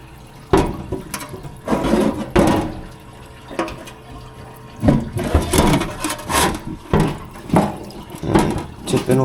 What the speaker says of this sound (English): I'm tipping over the parts washer.